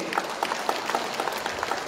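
Hand clapping from an audience at a speech by the Maharaja of Tripura, steady and fairly close, a crowd's applause with scattered individual claps running through the whole moment.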